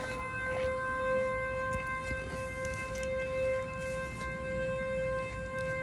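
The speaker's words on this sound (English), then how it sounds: "Looks like the town siren." A town siren wails steadily at a distance, a sustained tonal blare holding its pitch over a quiet outdoor background with no talking.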